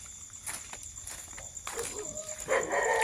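A dog barks in short, scattered bursts at night on the grounds of an elephant conservation project in Surin, with footsteps and quiet voices mixed in around it.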